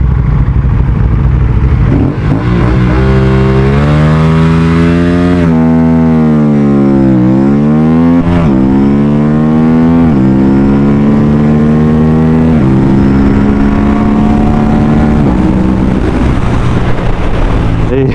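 A modified Aprilia RS457 sport motorcycle revs hard and launches, its loud engine note rising and falling through repeated climbs and gear changes for the whole stretch, close and dominant throughout.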